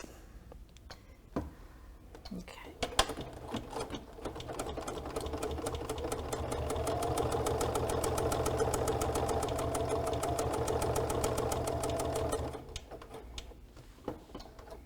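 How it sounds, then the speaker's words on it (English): A sewing machine stitches fabric a quarter inch or less from the edge, a fast steady mechanical whir that swells louder in the middle then slows and stops, with no talking. "I am going to stitch, let's say, 1/4 of an inch from the edge"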